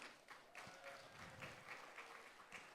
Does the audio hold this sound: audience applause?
yes